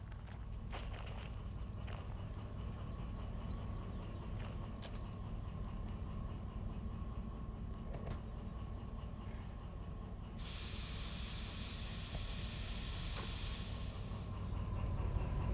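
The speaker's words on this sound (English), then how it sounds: "back and forward shuffling to get my train in facing the right way" A train in the Derail Valley game shunts back and forth, giving a constant rumbling roll with a few sharp clanks and a loud burst of steam hiss in the last few seconds.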